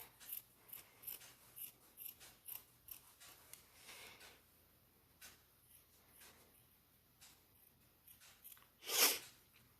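Scissors cutting through felt for a craft cookie: a steady run of quiet, close snips, slowing midway, then one louder crisp snip near the end.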